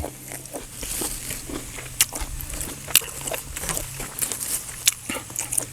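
Close crunchy chewing of Thai banana salad with apple snail, with crisp bites and crackles popping out irregularly over a quiet background.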